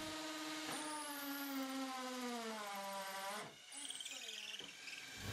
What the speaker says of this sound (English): drill through the window frames and the brick